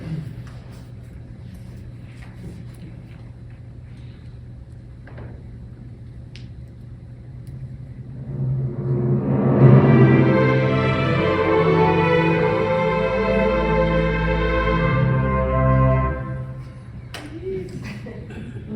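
Sustained instruments swell from quiet to loud in a shimmering tremolo, holding for several seconds before cutting off, with faint talk before and after.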